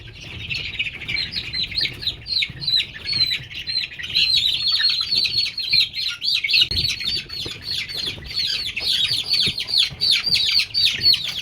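Native chicken chicks about 24 days old chirp close by, many high, rapid peeps overlapping in a constant busy chorus.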